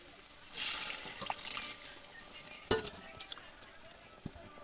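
Water poured into a pan of boiled peas, potatoes and tomatoes frying over a low flame sets off a loud hissing sizzle, followed by softer scraping and stirring clinks.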